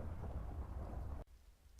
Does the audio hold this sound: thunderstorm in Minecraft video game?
yes